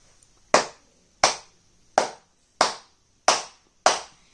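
Six sharp, evenly spaced hand claps ring out in a classroom for a student who scored full marks, each a crisp isolated burst with short silence between, fairly close and loud.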